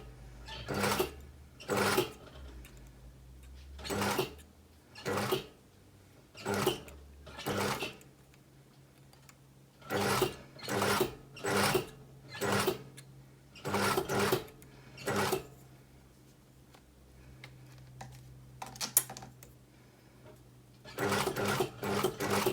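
Sewing machine stitching a cowl neck blouse, running in repeated short bursts of rapid stitching separated by brief pauses, close and clear with no talk.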